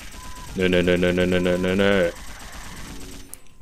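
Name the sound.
gunfire in the video game Dino Crisis 2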